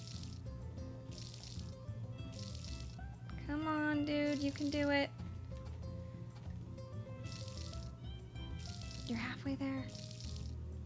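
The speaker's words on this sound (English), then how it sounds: "let's water this one because it's clearly in need of" A watering can pours onto crops in the farming game Story of Seasons: A Wonderful Life, with short bursts of splashing water repeating over a steady low background while a person talks throughout.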